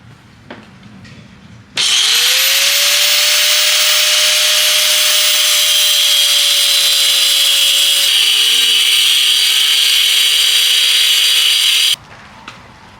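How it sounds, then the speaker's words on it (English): A power tool cutting off a stuck, rounded-out bolt on a Ford F-150 truck during a lift kit install, a loud sustained high-pitched whine for about ten seconds that shifts pitch partway and stops abruptly. "This bolt is completely stuck, free spinning and rounded out, so I have to cut it off."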